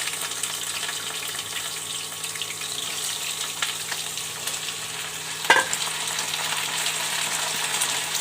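Potatoes frying in hot oil with nigella seeds and dried red chilli, a constant close sizzle with light stirring and one sharp clank of utensil against the pan.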